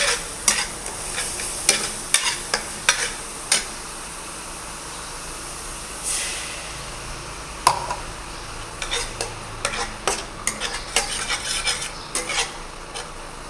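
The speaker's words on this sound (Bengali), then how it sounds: "বন্ধুরা, মশলা কষা হচ্ছে।" Spices with chopped onion and tomato sauté in a pan for a fish curry, a steady close sizzle broken by repeated sharp scrapes and clinks of the stirring spoon against the pan.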